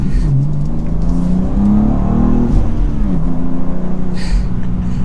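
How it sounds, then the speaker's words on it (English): A BMW M2 manual sports car pulls away from a start, its engine revving up loud and close through the gears with rising pitch and brief dips at each shift, a steady strong drone throughout. "setting off in the M2"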